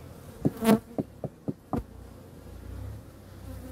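Honey bees buzz steadily at close range while several sharp knocks tap against the hive, the buzzing continuing underneath throughout; the bees stay calm on the combs despite the knocking.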